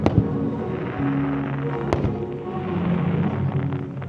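Fireworks burst over the night sky at Versailles during an evening show, a dense run of loud booms and crackling pops with one sharp blast standing out midway, sustained and fairly close.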